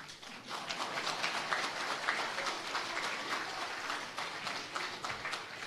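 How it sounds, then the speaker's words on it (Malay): Audience applause at a political launch event for the Perikatan Nasional PN BEST offer in Malaysia, dense steady clapping from a crowd filling the whole stretch without pause, with no voices over it. "Tepuk tangan lagi."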